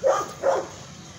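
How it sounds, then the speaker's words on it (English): A dog barks twice outdoors, two short moderately loud woofs about half a second apart, heard alone with no talking. "don't pay no attention to that dog barking"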